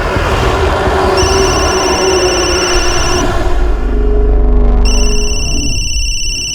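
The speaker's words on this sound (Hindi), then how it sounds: "फोन उठाओ" A telephone rings loudly and insistently in a tense crime drama scene, its repeated electronic trill cutting through a dense, droning background score and continuing across the stretch without any talk.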